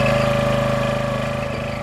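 Small gasoline engine on a log splitter, just back running after a carburetor cleaning, drones steadily at close range with a continuous rumbling hum and a faint tonal whine while wood is split.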